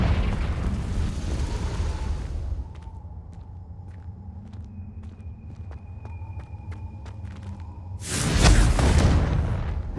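Confringo spell explosion in the video game Hogwarts Legacy, a loud rumbling burst at the start, a quieter stretch of small clicks and tones, then a second heavy blast near the end.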